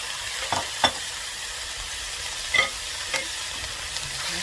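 Raw meat sizzles in a hot pan for beef goulash, a steady frying hiss broken by a few sharp crackles and stirring clicks, close and alone with no talking.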